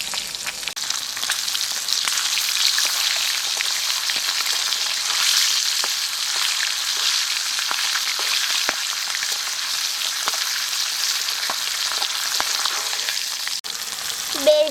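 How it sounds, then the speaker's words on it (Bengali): Fish frying lightly in oil in a pan, a steady close crackling sizzle that runs throughout with faint utensil ticks, no voices. "বেশি মাছগুলো ভাজবো না, হালকা করে ভেজে নেব"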